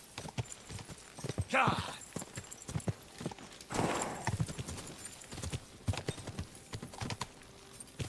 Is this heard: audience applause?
no